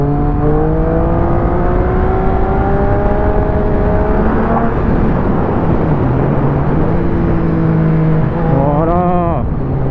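A Triumph Speed 1050 motorcycle engine roars close and loud as it rides, its tone climbing steadily through the gears and then dropping back, rising sharply again on a final hard rev, with wind rushing throughout.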